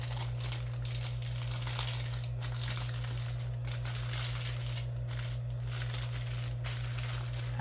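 Homemade butter, rolled into a stick shape, being wrapped in paper for the freezer, giving a steady close crinkling and rustling over a constant low electrical hum.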